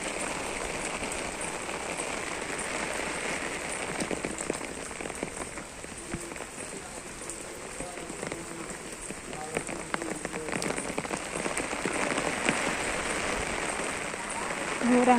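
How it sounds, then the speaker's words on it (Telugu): Heavy rain pours steadily outdoors in a rural farm setting where young goats are kept, a dense continuous hiss of drops on surfaces that swells slightly toward the end, with a voice faintly audible beneath it. "వర్షం చూడండి ఎట్లా పడుతుంది"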